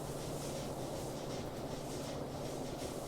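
A train moving in the video game Factorio, a steady low rolling rumble with a faint hum, continuous and moderately quiet, with no voice.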